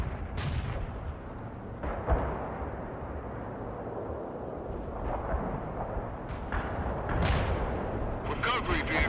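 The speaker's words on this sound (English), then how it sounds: "Enabling smoke ordnance, sir. Firing at coordinates." Artillery firing smoke ordnance in the World in Conflict: Soviet Assault video game, heard as loud continuous battle rumble with sharp booming blasts near the start, around two seconds and again late in the clip.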